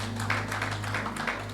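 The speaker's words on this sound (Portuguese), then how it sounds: "Eu quero aqui pedir uma forte salva de palmas e que se aproxime o irmão Banzi, Gerson Banzi" An audience at a conference talk show breaks into loud, sustained applause to welcome Gerson Banzi, a dense, steady wash of many hands clapping at once.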